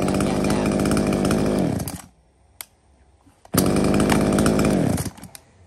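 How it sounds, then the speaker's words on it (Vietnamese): A Shindenwa 1036 chainsaw runs loud and close in two bursts of steady high-revving buzz, dropping off and going quiet for about a second and a half between them, with a brief click in the gap. "con máy cưa Shindenwa 1036 này"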